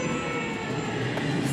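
An unusual hybrid train on the Takasaki to Shibuya line rumbles along in a steady, moderately quiet drone of wheels and motors, heard from inside with no voices.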